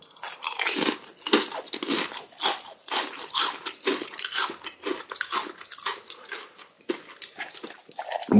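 Someone bites and crunches ghost pepper potato chips up close, with a quick, irregular run of sharp, crisp crunches and chewing bursts and no speech.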